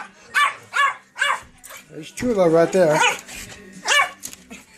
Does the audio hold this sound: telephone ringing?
no